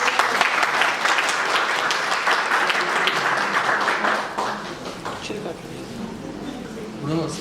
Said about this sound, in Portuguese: Bruno, salve de palmas.